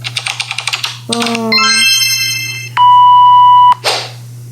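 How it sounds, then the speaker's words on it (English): Rapid keyboard typing clicks at the start, followed by rising electronic chimes and a sustained beep tone, all over a steady low hum. "You'll go down here to sound effects, and you see typing, magic reveal"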